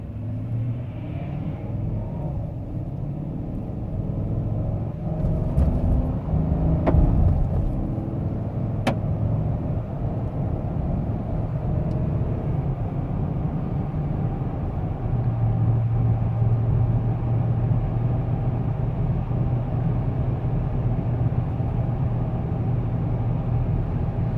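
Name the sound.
2015 Chevrolet Silverado LT Z71 truck accelerating from a stop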